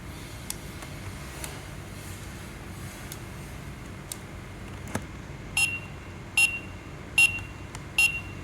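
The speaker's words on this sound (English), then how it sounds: "Beep will come" A Costar T310 doorbell receiver beeps during a reset: faint regular ticks for several seconds, then four louder, evenly spaced electronic beeps close by over quiet background hiss.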